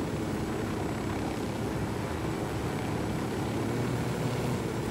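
Helicopter in the Ghost Recon Wildlands video game, a steady dense rotor and engine roar holding at an even loudness throughout, with no voices.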